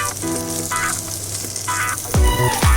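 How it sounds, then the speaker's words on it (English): Sabudana, tapioca pearls, cooking in ghee in a pan, a loud continuous sizzle and hiss with a low hum beneath and two sharp swells of frying near the end. "I'll be cooking the sabudana well in the ghee for around 10 minutes."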